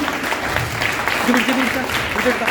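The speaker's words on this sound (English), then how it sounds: "I think they do deserve a loud round of applause." An audience applauds a batch of public speaking students at a Brototype training campus in Calicut, a steady crowd of hands clapping close by, with a brief voice or murmur mixed in partway through.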